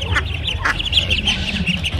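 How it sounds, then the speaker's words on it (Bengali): Ducklings at a poultry market at Nepalgunj give quick, high peeping quacks in a continuous close chorus, lively and steady over a low background hum. "এখানে দেখুন কত সুন্দর সুন্দর হাঁসের বাচ্চা আছে।"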